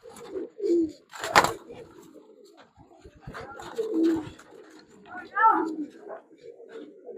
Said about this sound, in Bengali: একটা বাচ্চা কবুতর আমার হাত বডি ভরে যায়।